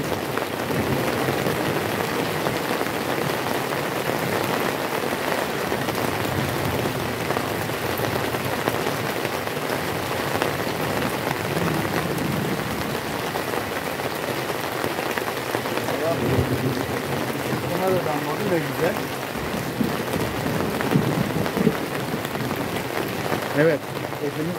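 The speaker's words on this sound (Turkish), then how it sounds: "Bayağı bir yağmur yağıyor." Heavy rain pours down steadily outdoors beside a wood fire where meat is being cooked, a loud, constant patter with occasional low rumbles, and someone speaks over it now and then.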